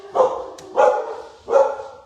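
Dogs barking outdoors at deer circling out front: three loud, close barks spaced evenly about every three-quarters of a second, with nothing else heard.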